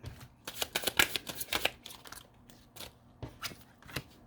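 Tarot cards are shuffled up close in quick, uneven bursts of riffling and slapping, with short pauses between handfuls.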